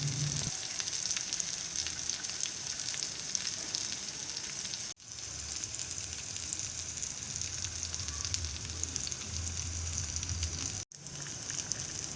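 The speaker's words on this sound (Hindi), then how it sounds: "थोड़ी थोड़ी देर के बाद पीसों को उल्टाते पलटाते रहें ताकि दोनों जानिब से गोल्डन ब्राउन हो जाएं।" Fish pieces fry on a tawa over medium heat, a steady close sizzle and crackle running continuously, with two brief breaks where the sound cuts out.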